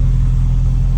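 A deep, steady Subaru Impreza WRX GC8 engine rumble through a new Prodrive exhaust, low throaty tone, loud and close, holding a constant idle-like drone for the whole second.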